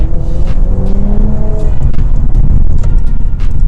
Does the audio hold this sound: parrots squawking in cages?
no